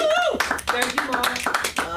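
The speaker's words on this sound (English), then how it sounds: "First clap again, everybody" An audience claps in a short burst of quick, scattered hand claps at close range, with voices mixed in.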